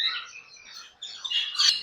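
Cockatiels at a bird exhibition give a few faint, shrill chirps and squawks over about two seconds, heard slightly distant, with no talk.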